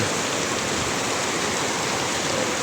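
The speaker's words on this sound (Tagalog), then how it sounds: "magingat po kayo dahil napakalakas ng ulan na to" Very heavy rain drums down in a thick, constant roar, loud and close with no pauses or voices over it.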